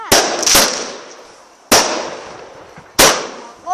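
Fireworks bursting outdoors, with sharp, loud bangs close by: two quick reports, then two more spaced over a second apart, each followed by a fading crackle.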